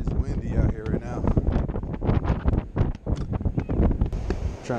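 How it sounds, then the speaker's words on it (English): Strong wind gusting on a beach pier, buffeting the microphone with loud, continuous rumbling bursts. No one speaks over it. "It's windy out here right now."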